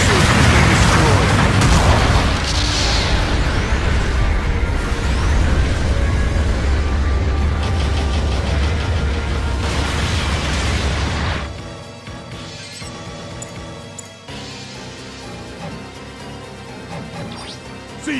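Loud booming explosions from long-range supporting fire in the mech combat game Gundam Battle Operation 2, a dense roaring barrage for about eleven seconds before dropping to quieter scattered battle sounds.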